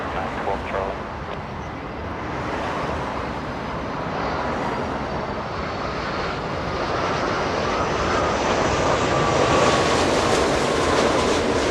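A C-17 military transport aircraft taxis at LAX, its jet engines giving a steady, loud, broadband roar that swells slightly toward the end, with faint voices underneath.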